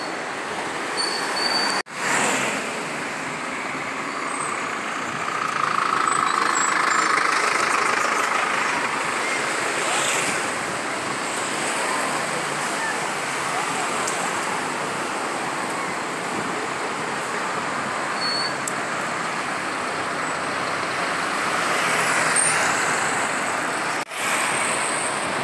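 Steady street traffic on a city avenue in Juazeiro do Norte on a hot late afternoon, a bus rumbling past among other vehicles, a continuous loud wash of engines and tyres with a couple of sharp knocks.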